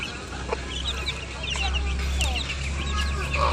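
Pet chickens being fed, with several hens clucking and chattering in short bursts close by over a low background hum and faint voices.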